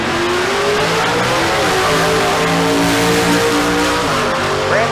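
A Pontiac Firebird and a Corvette drag racing at Famoso Dragstrip, engines revving hard and rising in pitch as they accelerate away, loud and continuous with a brief tire squeal near the end.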